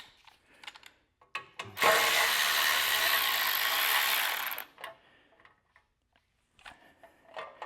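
A bolt is worked loose from the carburetor of an Ariens 624 snow blower, with scattered close clicks and clanks of tools and parts around a sustained broadband whirring burst of about three seconds in the middle.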